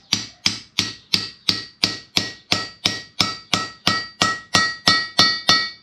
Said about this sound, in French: dès que ça fait un bruit de ferraille,